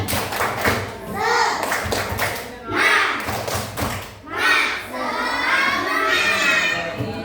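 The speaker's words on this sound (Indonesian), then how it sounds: "Tepuk semangat" Schoolchildren in a third-grade class perform a rhythmic spirit clap, bursts of patterned clapping and thumps mixed with their chanting voices, fairly close and lively throughout.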